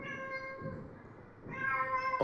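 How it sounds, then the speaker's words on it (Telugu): A house cat meows indoors in a drawn-out, tonal call, moderately close, with a second rising meow near the end and faint room noise underneath. "ఒక్క నిమిషం మా పిల్లి ఏదో బయటికి పోతుంది."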